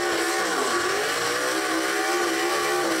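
A gasser drag race car roars down the strip at Reynolds, Georgia, its engine a loud, steady, continuous blare that holds for the full three seconds with no talk over it.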